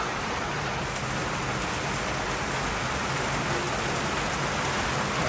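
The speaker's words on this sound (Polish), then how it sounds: "taka ulewa jest, że szok" A heavy downpour hammers down in a town in Botswana, a loud, dense, unbroken hiss of rain that fills the whole stretch evenly, with no talking over it.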